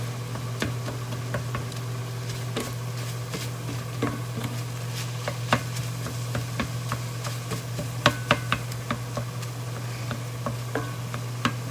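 A constant low hum with scattered crackles and ticks of taco meat sizzling quietly in a pan, with occasional clinks of a utensil.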